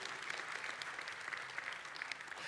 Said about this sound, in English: go ahead and clap for them